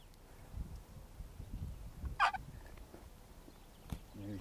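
An old wooden box call for turkey hunting rasps out one short, sharp yelp sequence, heard faintly against quiet outdoor rustling during a Merriam's and Rio turkey hunt.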